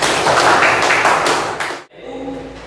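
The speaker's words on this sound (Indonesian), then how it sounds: "tepuk tangan saya" A single person claps in a classroom guidance lesson, a loud burst of dense claps lasting under two seconds, then stops abruptly, leaving quieter background sound.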